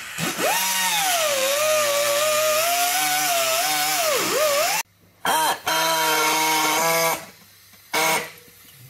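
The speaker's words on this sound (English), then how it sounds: "let's get the big guns out. The grinders." Angle grinders cut old metal from a Daihatsu car, their loud, close whine rising and dipping in pitch as they bite, then stopping briefly and restarting in short bursts.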